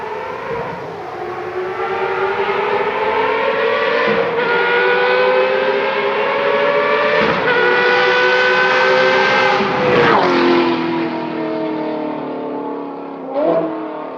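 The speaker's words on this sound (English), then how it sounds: "It's got a completely straight pipe system, so there's no cats, no mufflers." Ferrari F430 with a FabSpeed straight-pipe exhaust, no cats or mufflers, revving hard: loud rising and falling wails with sharp throttle blips, a long climbing rev, then drops back to idle between bursts.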